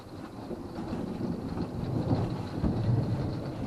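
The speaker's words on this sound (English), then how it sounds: "You hear that rain." Heavy rain falls during a thunderstorm on an elk bow-hunting trip, with a dense, steady roar and a deep, rumbling swell of thunder building in the background.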